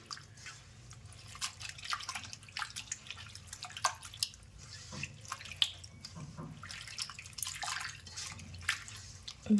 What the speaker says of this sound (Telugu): ఇప్పుడు ఈ వాటర్ పడవేసి మళ్ళీ ఇంకొన్ని వాటర్ తీసుకొని కడుగుదాం